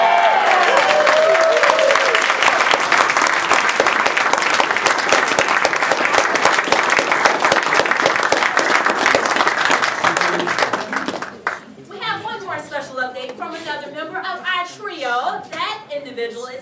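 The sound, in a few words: conference audience cheering and applauding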